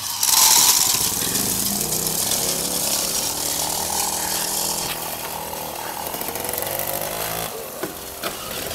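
A moped engine is started and then runs steadily at close range, a loud continuous buzzing drone that goes on for the whole stretch, with a few brief knocks near the end.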